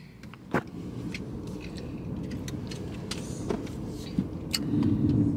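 A car drives and maneuvers with a low engine rumble and road noise, and a few clicks and rattles sound from inside the cabin.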